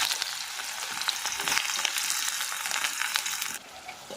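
Onion, garlic and ginger frying in hot oil in a wok over a gas flame, a close, steady sizzle with small crackles throughout, dropping quieter near the end.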